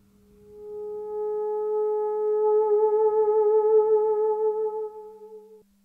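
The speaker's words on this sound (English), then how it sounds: "Let's play a sound with a soft beginning, vibrato, and soft ending." A single theremin note swells in softly, holds with a clear, even vibrato wavering the pitch, then fades gently away, a pure tone heard alone.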